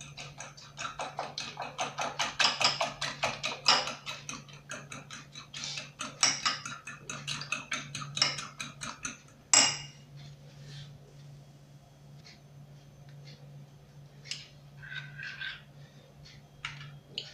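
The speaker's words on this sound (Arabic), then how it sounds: "قليلة ديال البيض. وغادي نخلطهم مزيان." A small amount of egg whisked briskly in a bowl for a mini quiche filling, a fast rhythmic clicking and tapping for about ten seconds, then slower, scattered taps.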